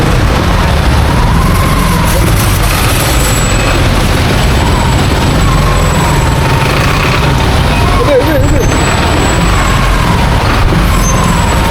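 Heavy road traffic with trucks and buses passing close to a rider on an e-bike: a loud, continuous engine rumble and roar with a brief hiss near the end. A voice may be faintly present under the noise.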